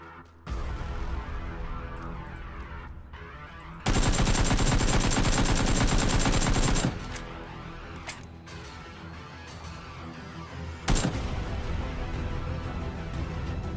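Gunfire in PlayerUnknown's Battlegrounds, with close, loud bursts of rapid automatic shots, one long sustained stretch of heavy firing and a sharp single report near the end, no talk.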